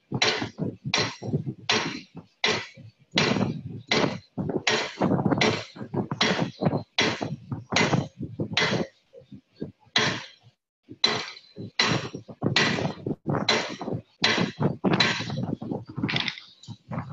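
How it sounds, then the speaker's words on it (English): Hammer blows with the cross peen forging steel box-jaw tongs on an anvil, a long run of sharp, loud, evenly spaced ringing strikes with brief pauses between groups. "I'm going to start using the cross peen side to really spread that material."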